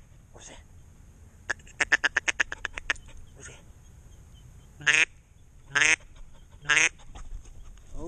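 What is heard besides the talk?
duck call being blown during retriever training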